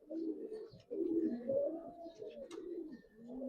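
Coloured Giribaz pigeons at a pigeon farm give soft, low, rolling coos that rise and fall in several close, quiet phrases, with no talk.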